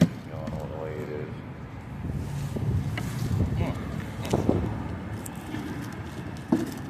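Wind blowing outdoors, rushing buffeting noise against the microphone with a person talking over it and some handling clatter.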